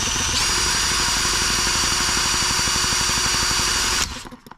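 An H73 small engine cranked over steadily for about four seconds, a loud, even mechanical whir with rapid pulsing beats, ending abruptly and fading out, without any talk.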